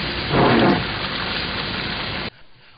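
Heavy rain pours down during a downpour in İnegöl, a steady dense hiss with a louder burst early on, ending abruptly.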